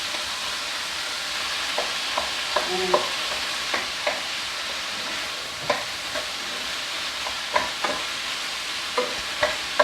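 Korean japchae in the making as vegetables and chewy rice cakes stir-fry in a hot pan, a steady sizzle running throughout with scattered scraping taps of a utensil against the pan and no voices.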